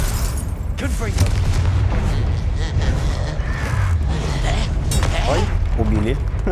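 The Confringo blasting spell explodes in Hogwarts Legacy with loud booming bursts under heavy game music and effects, with someone talking over the action.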